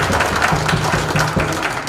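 Conference attendees clap to welcome the chief principal, producing a full, continuous wash of applause from a crowd that stays fairly loud and even throughout.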